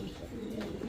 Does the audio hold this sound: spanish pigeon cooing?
yes